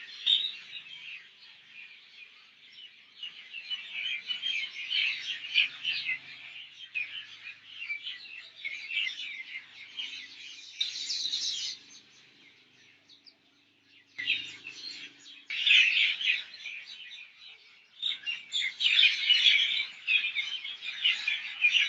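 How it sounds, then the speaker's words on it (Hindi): Small birds chirp and twitter in a busy morning chorus, thin, high calls layered continuously with brief lulls, moderately distant and fairly quiet, with no talk. "ये चहचहाना ही हमारे लिए सब कुछ है."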